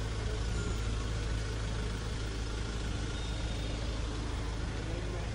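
Cars, trucks and buses idle and creep forward in a long traffic jam on the road to Ayodhya. A constant, muffled low engine rumble is heard from inside a vehicle, with no distinct horns or passing sounds.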